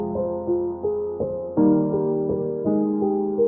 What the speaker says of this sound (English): One difference is for the second piano, I kept the arpeggio going.